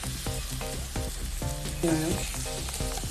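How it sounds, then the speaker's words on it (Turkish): Rice pilaf frying in a pan as spices are stirred in, a steady loud sizzle broken by repeated scraping and clattering strokes of a spoon against the pan. "Baharat ilave edince tekrar karıştırıyorum."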